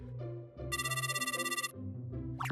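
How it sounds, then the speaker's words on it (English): A house landline phone trills in a rapid electronic ring burst lasting about a second, heard over a soft music bed in an animated drama. "that's not my cell phone, that's the house phone"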